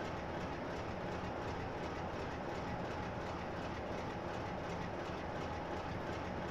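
Tank train running on rails between Bristol and Exeter in a train simulator game, a steady even rumble of wheels and wagons rolling continuously, fairly quiet with no talk over it.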